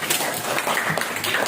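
A classroom of pupils bursts into brisk applause, a dense patter of many hands clapping close by for a moment.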